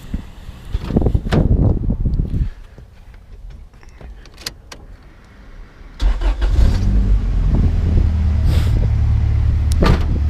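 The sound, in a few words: right-hand-drive Honda Civic engine starting and running, straight piped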